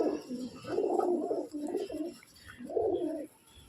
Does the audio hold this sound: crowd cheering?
no